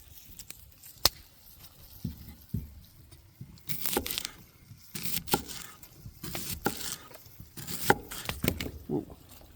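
A knife chops onions on a board in a homestead kitchen, with irregular bursts of crisp, close cutting taps spread over faint background noise.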